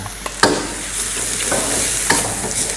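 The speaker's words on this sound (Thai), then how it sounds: "ผัด ให้โดนกระทะฝั่งนี้ก่อนเนาะ ให้ผักทุกอย่าง โดนความร้อน" Bean sprouts and spring onions stir-fried in a hot wok for Thai coconut noodles, a steady loud sizzle broken by a few sharp spatula clanks against the pan, with no talking.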